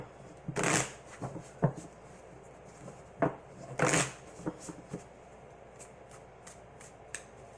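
Alchemy 1977 England Tarot deck cards being shuffled by hand, heard as several separate bursts of riffling and flicking with short taps in between, close up and with no talking.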